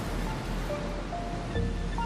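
Pacific Ocean surf washing onto a Costa Rica beach, a continuous broad rush of waves with wind, steady and fairly loud throughout.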